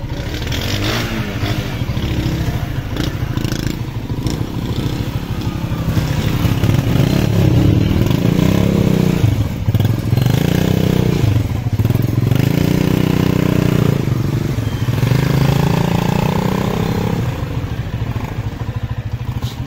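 A motorcycle rides through congested traffic on the mall road in Murree, the engine droning and revving steadily close by, with rattles, scrapes and surrounding vehicle noise throughout.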